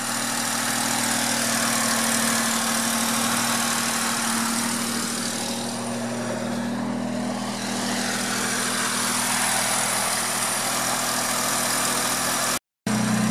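Engine of a 1967 Mercedes-Benz 250SL idling, a steady even rumble with a constant hum held for several seconds, close and loud, cut off abruptly near the end, no talking.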